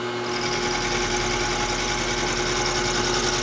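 Power table feed motor on a Grizzly milling machine running steadily, a close, continuous electric whine and hum with a constant tone and no pauses.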